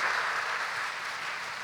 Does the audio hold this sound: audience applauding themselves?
yes